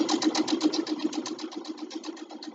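A sewing machine stitching through a lot of fabric, fast rapid rhythmic needle chatter, close and loud, slowing slightly toward the end.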